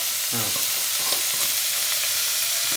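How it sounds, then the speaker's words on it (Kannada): Onions fry in a pan for kara pongal with a constant close sizzle and crackle, a brief squeak of stirring early on, and soft scraping under the hiss. "ಇದು ಚೆನ್ನಾಗಿ ಫ್ರೈ ಆಗಲಿ ಸ್ವಲ್ಪ"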